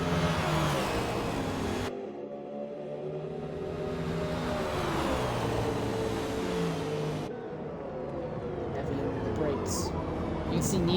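Race cars accelerating downhill at Kyalami in a racing game, engines droning and rising in pitch with gear changes, under steady commentary.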